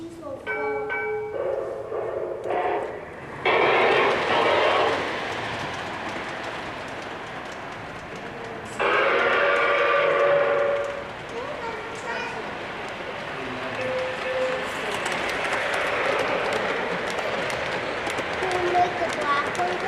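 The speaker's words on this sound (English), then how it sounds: "the very detailed O-gauge model railway" An O-gauge model train runs with rhythmic clicking and whirring, shifting in bursts, under a busy room with people talking, at the Baltimore Streetcar Museum.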